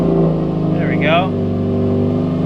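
A 2017 Subaru WRX STI engine starts and settles into a steady idle, with a brief rising rev, heard close by.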